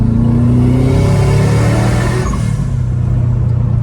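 A Subaru WRX engine revs loud and close, a deep rumbling exhaust note with a steady throb that eases slightly near the end, with no voices over it.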